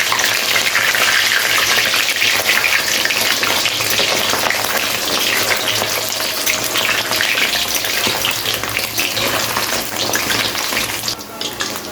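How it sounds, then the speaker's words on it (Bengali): Mutton fat frying in hot oil, a loud, continuous, rushing hiss of intense sizzling that holds steady nearly throughout and eases slightly near the end, close and unaccompanied by speech. "তেলের মধ্যে দিয়ে দিতে হবে ডাইরেক্ট এই যে চর্বিগুলো আনা হয়েছে আলাদা করে, এই চর্বিটাকে প্রথমে ভেজে নেব"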